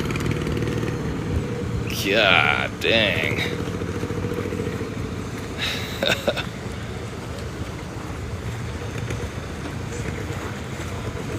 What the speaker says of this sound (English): You hear that thing? See that engine?